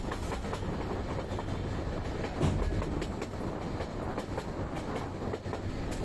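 The Subarna Express between Dhaka and Chittagong gathers speed after leaving the station. The recording is from on board, with a steady loud rumble of wheels on rails and repeated clickety-clack beats running throughout.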